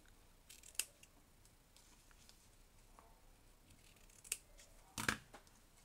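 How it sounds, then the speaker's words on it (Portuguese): Scissors snip the ends of a ribbon bow, a few quiet, crisp cuts spaced apart and ending in a quick double snip, close up against a faint background hiss. "então agora a gente vai cortar as pontas"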